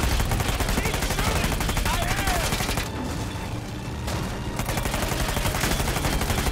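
Continuous heavy gunfire from a mounted vehicle gun in the video game Uncharted 4, dense rapid bursts and booms filling the whole stretch with a brief lull in the middle, loud and close with game effects layered under it.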